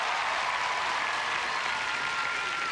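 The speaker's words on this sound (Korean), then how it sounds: "여러분 다시 한번 큰 박수로 여러분의 반주를 대신하겠습니다" A college music festival audience claps in place of musical accompaniment, producing a steady wash of crowd applause that holds even and continuous throughout.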